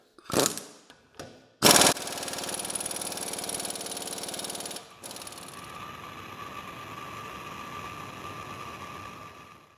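An air compressor sputters with a couple of short bursts, then kicks on loudly and runs with a steady mechanical drone that drops to a lower, continuous hum partway through.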